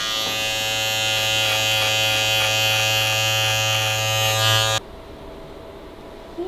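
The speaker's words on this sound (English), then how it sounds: "You're gonna let me do it with the razor over here?" An electric razor shaves off a beard grown for about a year, giving a steady, close, loud buzz that runs unbroken for several seconds and then cuts off abruptly, leaving a quiet room.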